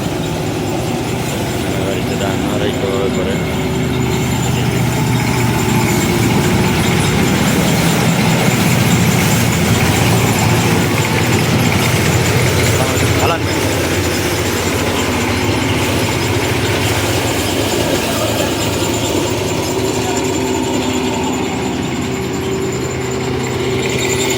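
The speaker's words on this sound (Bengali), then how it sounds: "হলো ধান মারাইয়ের মেশিন এটা" A paddy threshing machine runs nearby with a loud, continuous engine-driven roar and rattling drone that stays steady throughout, broad and dense with no pauses.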